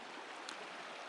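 A mountain creek in Yellowstone National Park flows in a steady, broadband rush of water, close and constant with no breaks and no voices.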